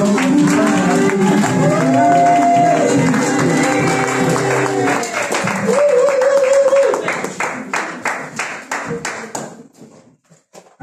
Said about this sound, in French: accueillir chaleureusement, avec des acclamations et des cris de joie, le frère Évangile